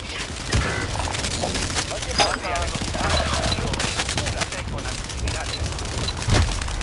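Rapid gunfire in a zombie mode of the online shooter Rebirth, dense bursts of automatic shots and impacts running continuously throughout, loud and close, with players talking over it.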